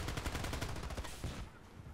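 Rapid bursts of Uzi submachine gun fire from the game Battlefield Play4Free, loud, close and sustained for about a second and a half before trailing off into ringing echo.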